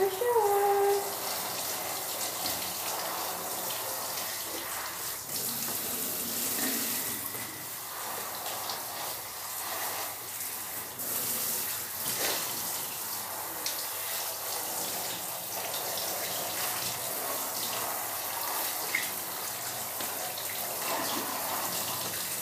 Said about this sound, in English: Shower, shower, shower.